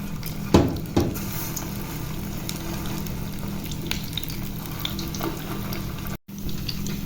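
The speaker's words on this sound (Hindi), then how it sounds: "ऑयल हमारा गर्म हो चुका है, तो अभी ये रोल्स जो हैं ये इसमें डाल देते हैं।" Mutton and vegetable rolls fry in hot oil, a steady, close bubbling sizzle with a couple of sharp clinks from a utensil near the start and a brief dropout near the end.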